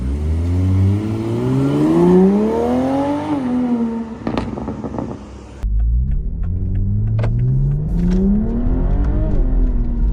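Porsche GT4 sports car with traction control on, accelerating hard through the gears: rising engine revs climb in sweeping pitch, break for a sharp shift with crackles, then build again, loud and close.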